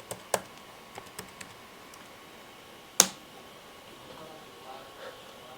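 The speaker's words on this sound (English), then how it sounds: "Then we're going to type in the password that we typed in the initial setup phase as well." Username and password are typed on a computer keyboard: a few sparse, faint key clicks with one sharper tap, quiet and close in an otherwise still room.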